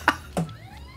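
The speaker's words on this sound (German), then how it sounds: "Und immer wenn du verlierst, kommt die Sirene der Warnung, damit du auch weißt, dass jederzeit die Russen kommen können" A short electronic alarm siren from the game Getting Over It plays on losing, a couple of sharp bursts followed by a faint rising wail tailing off.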